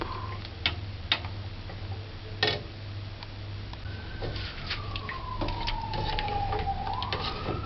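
Emergency vehicle sirens wail through Kingston City, a distant rising and falling tone that grows more prominent in the later seconds, over steady low hum and a few sharp clicks and ticks nearby.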